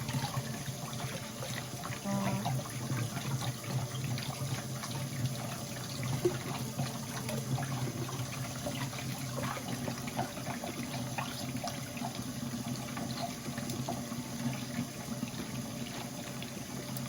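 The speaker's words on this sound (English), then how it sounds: "I'm just gonna rinse it off." Fresh patella sole rinsed under a running kitchen tap, producing a steady, soft hiss and splash of water that continues evenly throughout without speech.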